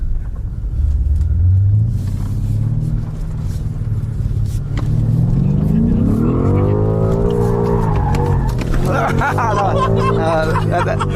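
A 625 hp BMW M5 Competition launches hard and revs through its gears, the engine note climbing and falling loudly up close with tire noise and a brief voice under the roar.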